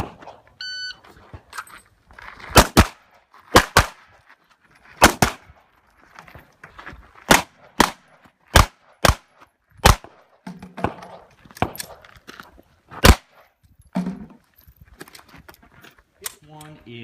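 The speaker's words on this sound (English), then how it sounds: "One is an indoor IDPA match where we were shooting some bowling pins." Sharp pistol shots ring out one at a time at an indoor IDPA match, a dozen or so loud cracks spaced a second or two apart as shooters engage bowling pins, with faint talk and room noise between shots.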